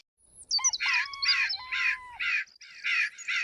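A crow cawing in a cartoon forest, about seven harsh caws in a quick irregular series, clear and close, with a brief whistling tone near the start and no talking.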